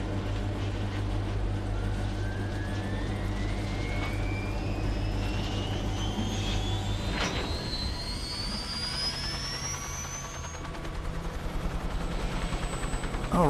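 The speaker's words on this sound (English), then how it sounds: "if the helicopter ever takes off" A helicopter engine from the video game Wasteland 2 winds up with a rising whine and steady low drone, fairly loud and continuous, with a sharp burst midway as pitches climb during takeoff.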